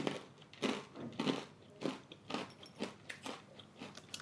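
Repeated close crunching bites into pretzel salted caramel almonds, Korean HBAF snack nuts, with about eight crisp crunches spaced roughly half a second apart and no talking.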